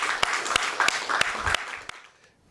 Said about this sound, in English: let's give a round of applause for all the faculty that came out tonight